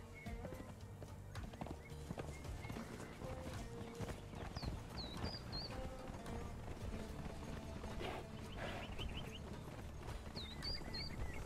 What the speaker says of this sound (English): Oh my god, horses.